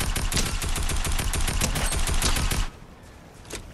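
Video game gunfire rattles in a dense rapid automatic burst for over two seconds, loud and close, then cuts off to quieter background with a single faint shot after.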